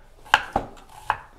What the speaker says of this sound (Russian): Свинину режем на соломке.